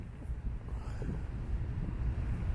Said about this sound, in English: You can still hear the wind. It's still kind of windy out.